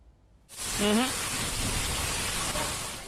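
Heavy unseasonal rain with an intense hailstorm lashes Punjab farmland, a dense, loud hiss of downpour that starts abruptly and holds steady throughout, with a brief voice-like tone near the start.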